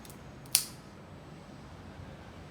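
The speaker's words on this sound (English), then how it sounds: "you want to cut it you want to nip the tip" Cigar cutter nipping the cap off a cigar, one sharp crisp snip standing out near the start against a quiet room hiss, followed by near silence.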